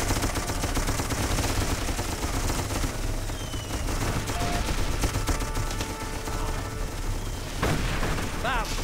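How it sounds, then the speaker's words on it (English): Rifle and musket shots in the Darkest of Days shooter, a dense, loud barrage of overlapping gunfire filling the whole stretch, with a voice speaking over it. "Oh, that was one hell of a musket shot."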